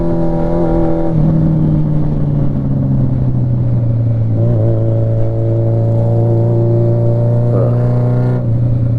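Honda Nighthawk CB750 motorcycle accelerating onto a highway, a loud close engine drone climbing in pitch through the gears, with brief drops at each shift and steady wind noise.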